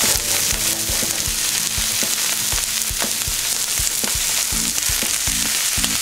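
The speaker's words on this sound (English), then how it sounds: "And then skin side down, and add our salmon in there just like that." Salmon fillets fry skin side down in a pan with garlic and onion, giving a dense, steady, close sizzle with faint pops and crackles throughout and no voices.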